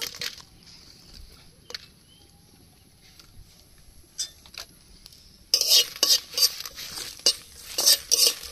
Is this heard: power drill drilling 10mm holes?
no